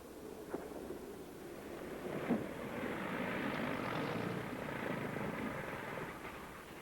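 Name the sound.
airplane landing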